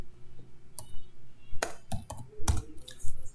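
Keys clack on a computer keyboard as a Linux command is typed, a handful of sharp separate clicks and taps in an irregular rhythm, close and fairly quiet with no talk.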